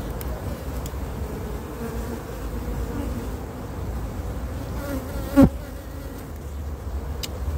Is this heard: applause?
no